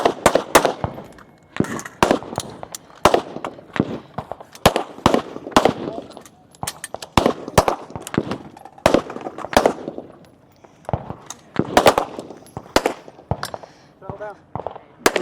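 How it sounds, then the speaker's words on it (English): Pistol and rifle shots on a women's elite shooting competition stage in Utah, a steady run of sharp, loud reports with irregular gaps, several shooters firing at once, with commentary voices in between. "She'll move to her pistol as Jordan finishes up her rifle"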